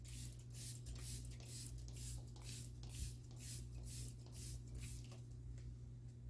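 A spray bottle spritzes in a quick series of short hissing bursts, about ten puffs in a fairly regular rhythm, close and fairly quiet.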